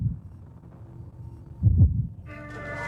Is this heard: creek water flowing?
no